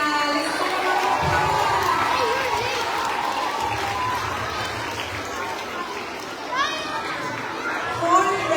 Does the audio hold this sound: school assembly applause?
yes